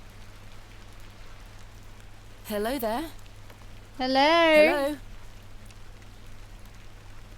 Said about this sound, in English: Can we get out of rain at least?